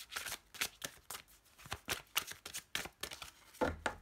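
Tarot cards being cut and handled, a run of quick crisp riffling and slapping bursts with short gaps between them, close and fairly quiet, with no talking.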